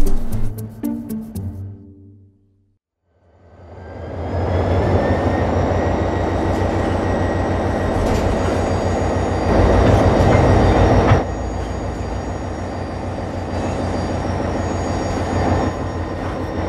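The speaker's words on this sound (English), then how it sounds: "So this is the bonded plate that's actually going to pull the train." A train starts to move while pulled by a steel plate bonded with structural adhesive, giving a loud steady rumble of wheels and cars with faint squeals, after a brief quiet pause.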